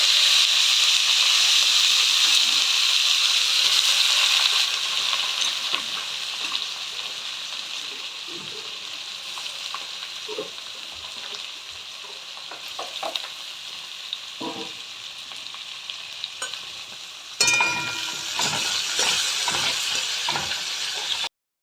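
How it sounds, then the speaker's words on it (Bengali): Onions sizzle and hiss steadily in a hot pan with whole garam masala, with occasional stirring scrapes and a louder burst of sizzling near the end. "এবার আমি পেঁয়াজ ভেজে নেব"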